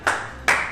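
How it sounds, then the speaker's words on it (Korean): Two short bursts of clapping at a small studio home-café coffee-tasting session, each sharp onset trailing off quickly, like a few hands welcoming a guest to the front. "열화와 박수 한번 부탁드리고요."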